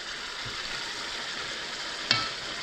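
Vegetables and scallion bulbs cook in a pan for pineapple chicken with a steady, soft sizzle. A single brief clink or stir lands near the end, and no one speaks.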